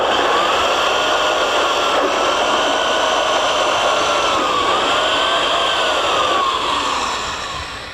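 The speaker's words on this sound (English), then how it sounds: "we're using a slow speed grinder with a 36 grit disc to kind of bevel the edges on the back side" Slow speed grinder fitted with a 36 grit disc beveling the back edges of a plastic bumper, a loud continuous whining drone with wavering pitch, close up and steady for the whole stretch before tapering at the end.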